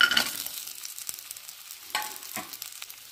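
Dry fruits, including black raisins, roast in ghee in a pan over a very low flame. A soft, steady sizzle is broken by a few scraping stirs, close and fairly quiet, with no talking.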